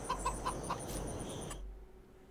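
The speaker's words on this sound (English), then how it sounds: "We got 500 chickens in here." Chickens cluck in a full coop of around 500 birds, a few distinct close clucks over a dense, murmuring background of fowl, cutting off abruptly after a second and a half.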